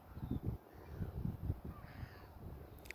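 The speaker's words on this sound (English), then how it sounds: "Look at the birds, just in bliss, singing, enjoying." Crows cawing outdoors in nature, a rapid run of harsh caws repeating about every quarter second, fairly close and clear over a quiet background with no talk.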